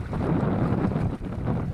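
Steady wind buffeting against the microphone on the Taganrog Bay shore, a continuous low rumble with gusty swells throughout and no voices.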